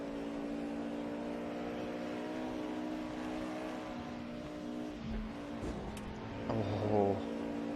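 DTM 92 race cars on the Nordschleife in the Raceroom racing game, a steady high engine whine from a car at speed, with faint tyre noise and a brief rev change near the end.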